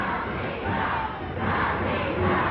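A packed wrestling arena crowd roars and cheers in a continuous loud swell, rising and falling slightly, at a 1988 Pacific Northwest pro wrestling event.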